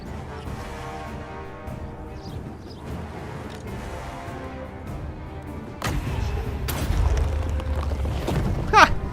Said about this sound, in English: I didn't mean to do a magical explosion.